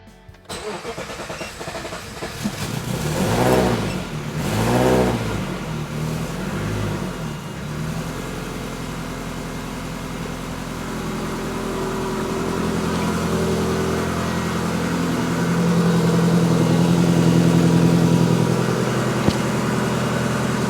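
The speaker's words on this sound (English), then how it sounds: "So let's start it up and see what it sounds like." An old 1954 Ford F600 truck engine cranks a few times, catches, then settles into a steady, low rumbling idle for the rest of the clip, close by with no talking.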